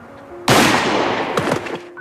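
A gunshot in a German war film set in the Battle of Stalingrad: one loud, sharp blast with a ringing decay, followed by a second burst of shots, over a quiet background tone.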